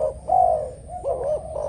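A Malaysian spotted dove used as a decoy bird gives a close, clear cooing call in a few soft rising and falling phrases, with nothing else in the background.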